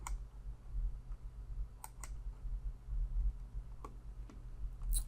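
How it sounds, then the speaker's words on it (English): Sparse computer mouse clicks at a desk, a handful of faint, crisp single clicks at irregular intervals over a quiet low hum. "So now I would just click OK"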